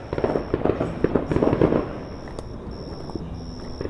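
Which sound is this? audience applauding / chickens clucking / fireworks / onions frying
fireworks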